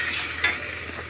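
Spiced chicken hits a hot kadai with a short burst of sizzling, a sharp hiss rising over steady background frying in a home kitchen.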